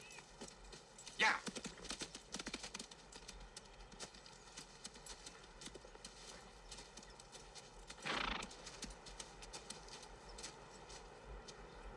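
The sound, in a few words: horses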